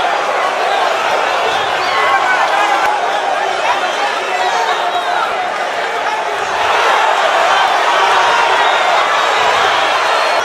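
A boxing arena crowd roars in a steady, loud wash of cheering and chatter, with a commentator's voice running over it the whole time.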